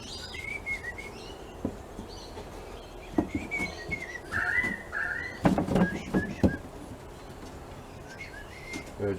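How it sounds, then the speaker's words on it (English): Birds chirp in scattered short calls over a low background, with a few louder knocks and handling sounds nearby; no one speaks. "Birds are chirping."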